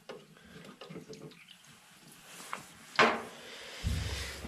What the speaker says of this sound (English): oh, that's some water coming out.